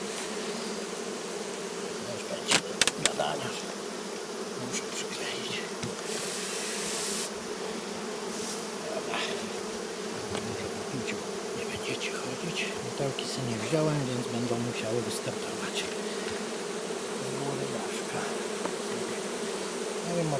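Honeybees buzz steadily around hives set on a buckwheat field, a continuous dense drone with individual bees passing close, plus a few brief knocks and handling sounds.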